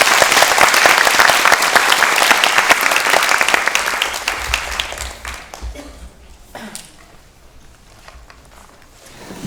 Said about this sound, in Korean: 자, 올라오시면 큰 박수 부탁드립니다.